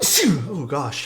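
A single quick sneeze opens a keyboard-building livestream moment, followed immediately by a man's short spoken exclamation close to the microphone.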